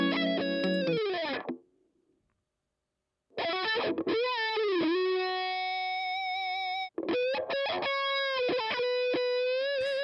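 Dry electric guitar solo with no reverb, sustained bright bent notes and quick runs, broken by a sudden silent gap of about two seconds before the phrases resume, loud and alone.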